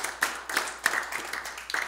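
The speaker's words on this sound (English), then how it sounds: "So give the Lord a hand clap." A church congregation gives a short burst of hand clapping during a Sunday service. Loose, fairly loud rhythmic claps repeat about every third of a second over a faint murmur.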